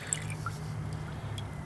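Brake fluid dripping from a cut brake hose on a Land Rover 101 during brake repair, a few faint, light drips over a low steady hum, close and quiet.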